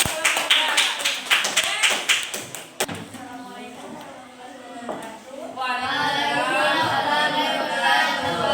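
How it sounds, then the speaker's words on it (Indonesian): A class of students claps in a quick burst of sharp, close hand claps for about three seconds, then the applause stops and the room fills with chatter and voices. "Tepuk tangan dulu."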